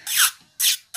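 A rechargeable electric nail drill files over dip powder on a fingernail in short, close rasping strokes: two full passes and the start of a third, each swelling and then fading.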